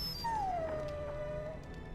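A dog in the video game Dragon Age gives a single long, thin whimpering whine that slides downward and trails off, heard close over a low steady game-music background.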